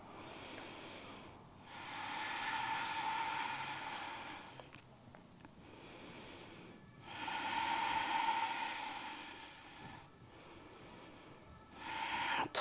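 Slow, deep breaths during a dynamic yoga session, long airy inhales and exhales close to the microphone, repeating at a calm, even pace over a quiet background.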